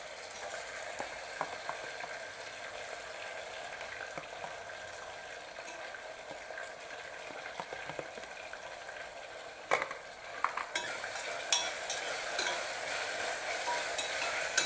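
Ginger-garlic paste sautéing in a pan for chicken pulao: a soft, continuous frying hiss with light stirring, then louder scraping and utensil clatter toward the end. No one speaks.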